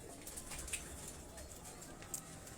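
Pigeons coo faintly on a Lahore rooftop loft, soft low calls with a couple of brief higher chirps over steady outdoor background noise, no one speaking.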